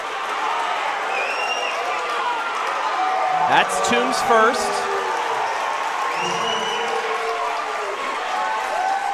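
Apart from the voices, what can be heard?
basketball crowds cheering and making noise on both sides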